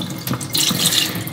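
Tap water runs steadily into a sink while rice grains are rinsed by hand in a home kitchen, a close, loud splashing flow with no talking.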